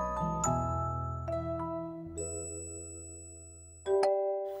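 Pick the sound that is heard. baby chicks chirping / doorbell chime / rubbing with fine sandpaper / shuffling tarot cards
doorbell chime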